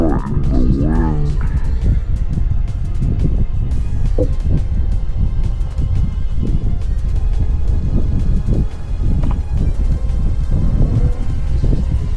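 Strong gusty wind buffets the microphone at an outdoor flying field where an EDF jetliner model is flown, a loud, constant low rumble with a brief whining tone near the start and scattered clicks and knocks.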